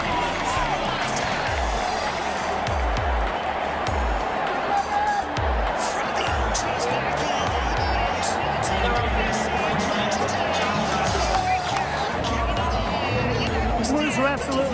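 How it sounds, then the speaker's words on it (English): Dense stadium crowd roaring and cheering at a rugby league match, a steady loud wall of voices with rhythmic thumping of chants or stamps running throughout. "The crowd's going off. It's massive."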